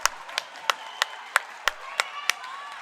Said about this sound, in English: Gappa's getting a round of applause.